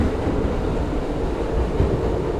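Steady rumbling interior of a New York subway metro train in motion, loud and continuous low roar with faint rail rattle and no voices.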